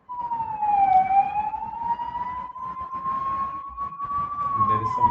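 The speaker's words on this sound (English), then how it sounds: "There is some ambulance or something" An ambulance or similar emergency siren passes outside, its wailing tone rising and falling continuously and fairly loud, with faint background noise and no speech.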